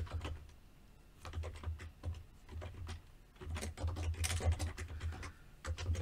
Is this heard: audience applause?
no